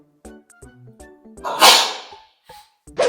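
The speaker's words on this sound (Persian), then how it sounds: "من خیلی وقتا همین که میخوام اجرا بکنم عطسه میزنم." One loud, sharp sneeze bursts out mid-clip after brief soft clicks and vocal sounds, then quiet.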